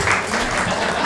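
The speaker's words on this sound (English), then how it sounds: "go clap if you want" An audience at a Krump dance history and culture panel applauds, a brief dense wash of clapping filling the room.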